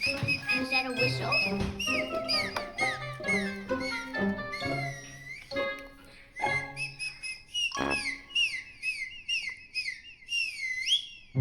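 A whistle is blown to get a dog's attention, sounding as a busy run of short tones and sliding, chirpy pitches that come in quick bursts, then thin out near the end.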